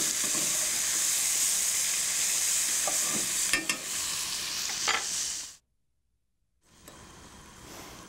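Onions sprinkled with salt sweat in a pan with pancetta, giving a steady close sizzle with light stirring clicks, then a sudden break into silence before the frying hiss resumes more quietly.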